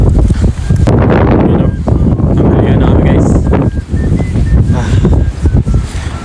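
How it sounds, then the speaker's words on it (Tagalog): Strong, cold wind in Japan buffets the microphone in a loud, continuous roar with gusty surges throughout. "Lakas ng hangin kasi."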